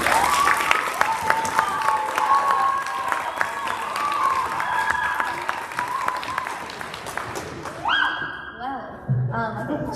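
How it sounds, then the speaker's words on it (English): A school audience claps and cheers loudly at an 8th grade graduation ceremony, sustained dense applause filling the room before tapering off into scattered claps and a few voices. "I hope you cheer that loud for the 8th grade when they graduate."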